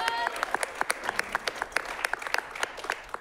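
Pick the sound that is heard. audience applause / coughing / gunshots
audience applause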